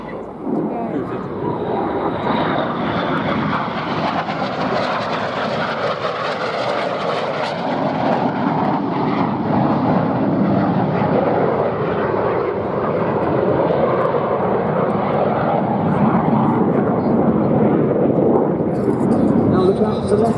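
Red Arrows Hawk jets performing a low display pass at a VE Day anniversary air show at Duxford, a steady loud broadband jet roar sustained throughout with a commentator talking over it.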